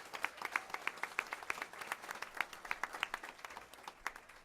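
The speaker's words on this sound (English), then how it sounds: "let's give them once again a round of applause for the Ignite Dance Team" A small audience at a school district board meeting gives a round of applause for a student dance team, with distinct individual claps in a quick, slightly uneven rhythm, fairly faint and without talk.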